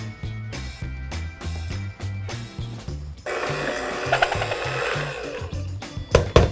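An electric mixer whirs through s'mores whoopie pie batter with steady rhythmic pulses, then turns brighter and noisier as wet ingredients are added, ending with a few louder clatters.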